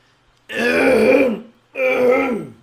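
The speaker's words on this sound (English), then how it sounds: "Clear my throat in your ear." Two loud, close throat clearings, a longer rasping one followed by a shorter one after a brief pause, with nothing else around them.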